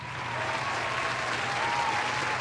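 An audience breaks into loud, sustained applause, a dense steady clatter of many hands clapping at once, close and continuous throughout.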